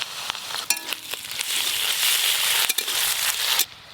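Ginger garlic paste hits hot oil with frying onions, giving a loud steady sizzle with clicks and scrapes of stirring, close and continuous, then cutting off abruptly near the end.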